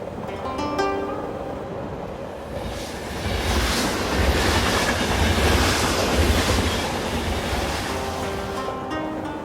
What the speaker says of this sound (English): it's time for us to experience the thrill of train travel at night